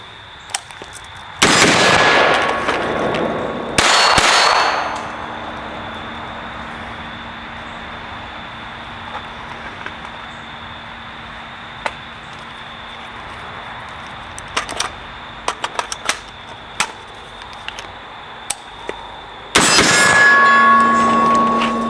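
5.56 rifle rounds strike a steel plate at an outdoor range, a few sharp loud cracks each followed by a sustained metallic ring that lingers and slowly fades, with scattered faint ticks and pings in between.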